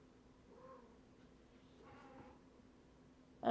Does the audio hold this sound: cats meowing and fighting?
yes